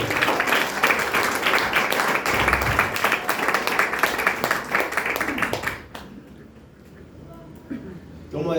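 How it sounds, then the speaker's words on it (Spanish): Loud, dense applause from a church congregation fills most of the stretch, then cuts off abruptly and leaves a quieter room with faint murmurs. "Denle un aplauso por eso fuerte."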